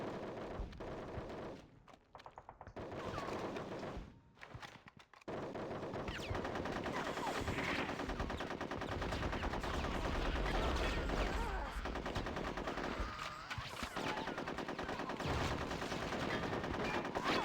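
Rapid gunfire in Conker's Bad Fur Day, a dense sustained rattle of shots with explosive bursts over game music, broken by a few brief gaps early on before running continuously to the end.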